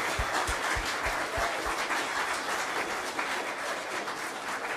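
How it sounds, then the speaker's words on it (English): An audience gives a round of applause after a children's Christmas program, continuous dense clapping close and loud throughout, with a few sharp low thumps near the start. "Can you give them a round of applause?"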